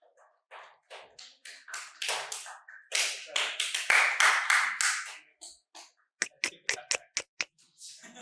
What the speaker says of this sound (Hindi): ताली मार दो भाई बच्चे के लिए।